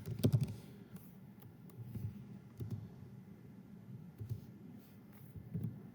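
A computer keyboard clatters in scattered soft keystrokes and brief bursts, close by and somewhat muffled, while low room rumble continues underneath.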